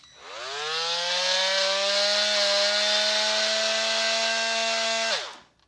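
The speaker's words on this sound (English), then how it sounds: "if I put a battery into the oscillating tool and turn that on" A cordless oscillating multi-tool spins up and runs steadily at a loud, high-pitched buzzing whine for about five seconds, then winds down and stops, with no talking.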